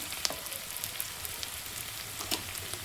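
Onion fries lightly in a pan being stirred, a soft steady sizzle with a couple of quick scraping knocks.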